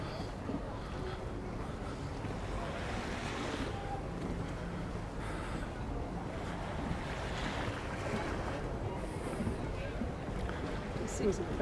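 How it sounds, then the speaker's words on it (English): Calm sea waves wash gently and continuously along a Mallorca beachfront at Palmanova, a soft steady surf mixed with wind noise and occasional talk nearby. "So this part of the sea is very calm."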